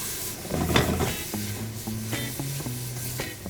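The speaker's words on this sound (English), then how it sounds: "the key thing is you wanna hear that sizzle as well" Onions sizzle steadily in a hot pan, a bright crackling hiss with a few soft scraping stirs, close and fairly loud, no voices.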